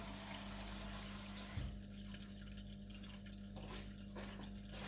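Tap water runs from a faucet into a container holding a small crab, starting about a third of the way in as a soft, steady splashing trickle over a low background hum.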